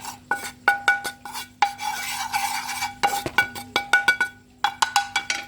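Chapli kabab mince mixed with gram flour is worked by hand in a bowl, giving close, rapid squelches and rubbing with sharp clinks against the bowl.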